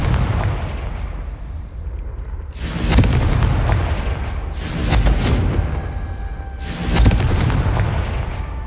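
Confringo fire-spell blasts in the video game Hogwarts Legacy: three heavy, booming explosions about two seconds apart, each rising sharply then fading over a steady low rumble of background ambience.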